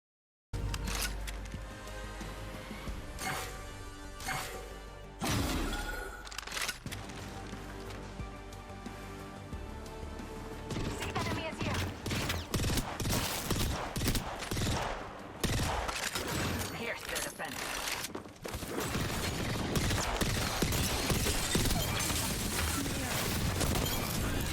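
Gunfire in a first-person shooter video game, with dense rapid volleys and bursts running almost continuously at close range, growing heavier toward the end.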